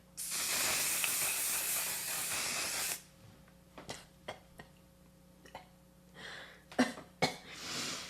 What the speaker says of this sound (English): maybe when I spray it on my hand, it comes out wet